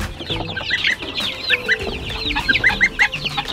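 A flock of about a hundred chickens clucks busily at close range, with repeated short calls and squawks overlapping throughout, some louder bursts standing out over a steady farmyard chatter.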